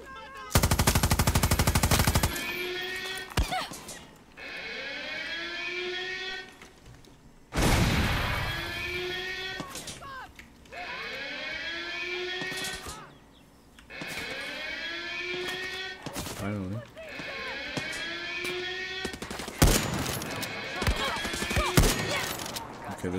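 Machine-gun bursts in Far Cry 6, loud rapid volleys repeating in several long strings with short gaps between them, mixed with other game effects and occasional speech.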